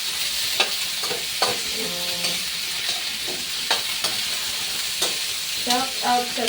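Food frying in oil in a pan is stirred, with a steady bright sizzle throughout and several clattering scrapes of the utensil against the pan at irregular intervals.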